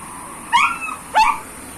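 Two short, high-pitched dog whimpers, each a quick rising-then-falling whine, separated by a brief pause, close by with no talking.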